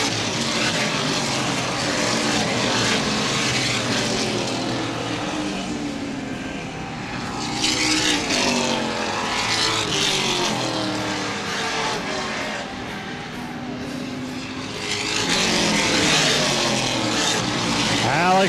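Late model race cars roar around Baer Field Speedway during a feature event, a steady loud engine drone swelling as packs pass close, with a track announcer talking over it.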